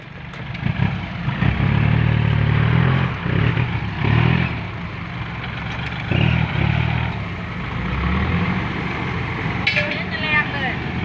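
A chugging tractor engine labors and revs as the tractor pulls itself out of water, amid splashing and clatter, with voices shouting over the noise.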